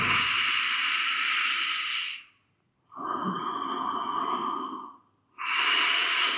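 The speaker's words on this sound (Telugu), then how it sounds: "సాధారణ శ్వాస తీసుకుంటూ వదులుతూ ఉండాలి" Slow yoga breathing: three long, close, hissing breaths alternate between inhaling and exhaling, each lasting about two seconds, with brief silent pauses between them and no talk.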